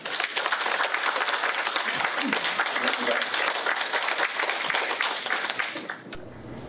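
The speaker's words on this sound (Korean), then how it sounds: "오늘 강의해 주신 교수님께 박수 한번 보내주십시오" An audience at a tea culture academic conference applauds the lecturing professor, with sustained, even clapping from a seated crowd that cuts off abruptly near the end.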